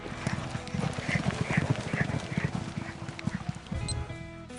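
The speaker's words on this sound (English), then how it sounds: "the pounding of the hooves, the steady breath of the horses" Racehorses gallop on a morning training track at Fair Hill, Maryland, their hooves pounding in a quick, steady rhythm close by, with breathing and outdoor bustle mixed in.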